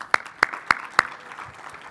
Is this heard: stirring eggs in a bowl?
no